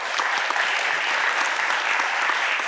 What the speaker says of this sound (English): give another round of applause to Mural Arts for all that they do